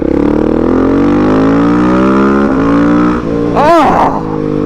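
A 2024 KTM 690 SMC R supermoto accelerating hard, its loud single-cylinder engine rising in pitch, with a quickshifter gear change cutting in near the end before the engine pulls again, heard close-up.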